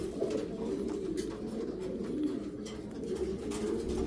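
A pair of Belgian breeding pigeons, ringed birds sitting on eggs in a home loft, coo steadily and continuously in a low, throaty murmur that fills the whole stretch with no talking.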